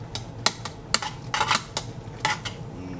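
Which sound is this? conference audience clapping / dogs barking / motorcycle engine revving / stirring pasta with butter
stirring pasta with butter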